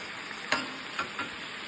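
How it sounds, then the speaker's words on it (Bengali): Onion, capsicum and green chilli cook gently in a pan with a soft, steady sizzle, broken by a few light ticks of stirring, quiet and close with no voices. "এখন আমি পেঁয়াজ, ক্যাপসিকাম, কাঁচামরিচ দিয়েছি। আস্তে আস্তে কুক হচ্ছে।"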